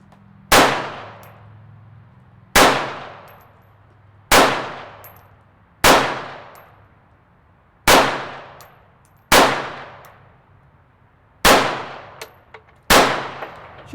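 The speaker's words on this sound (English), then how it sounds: "let's go ahead and load this thing up and shoot it some more here" Eight loud, sharp gunshots from an M&P 380 Shield EZ pistol at an outdoor range, fired one at a time about two seconds apart, each crack trailing off in a short ringing decay, no talk.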